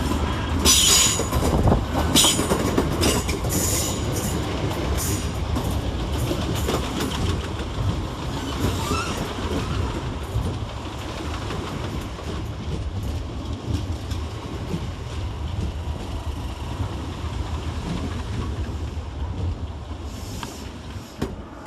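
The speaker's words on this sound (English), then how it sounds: "Next in to arrive is 465-907 and 465-911, working the 1221 Southeastern service from Hayes to London Charing Cross" Southeastern Class 465 electric units 465-907 and 465-911 roll into London Waterloo East station, a sustained close rumble of wheels with clickety-clack joints and sharp squeals, loud throughout and slowly easing.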